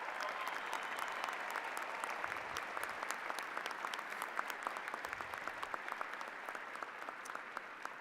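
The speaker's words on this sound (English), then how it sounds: "Let's have a round of applause for them as well." An audience at a 2018 undergraduate commencement claps for members of the armed forces, a sustained round of dense, crackling applause that stays at an even, moderate level from start to finish.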